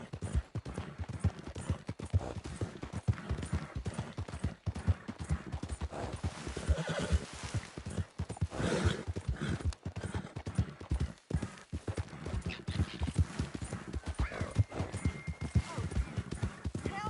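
In a video game, a horse's hooves clop steadily and rapidly over the ground with a loud neigh midway, set against wind and rustling, with speech partly overlapping.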